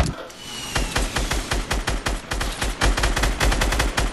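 Rapid, loud gunfire in a video game, sniper shots mixed into a dense, continuous train of close, evenly spaced cracks that keeps going throughout without a pause.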